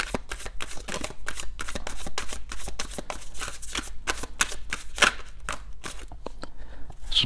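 Tarot cards being shuffled and drawn by hand, a close, rapid run of crisp riffling flutters and snaps with brief pauses between bursts.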